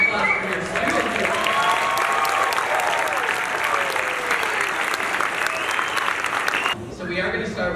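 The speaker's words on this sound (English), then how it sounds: "can you give a huge round of applause for your students" Audience applause at a fifth-grade school band demonstration concert, a dense, steady wash of clapping from a large crowd that holds for several seconds, with some voices mixed in, before cutting off abruptly near the end.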